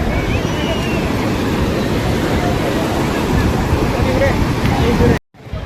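Sea waves wash in at Ganpatipule beach, a loud, continuous roar of surf with people talking over it, cutting off abruptly near the end.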